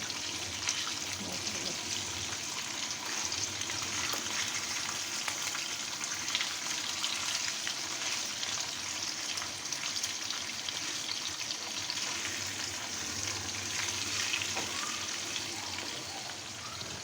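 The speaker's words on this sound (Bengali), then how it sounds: "মাছগুলো এক পিঠ ভাজা হয়ে গেলে উল্টে আর এক পিঠ ভেজে নিতে হবে" Hilsa fish pieces fry in hot oil with a steady, dense sizzle and crackle that holds at an even level throughout, close and continuous with no voices.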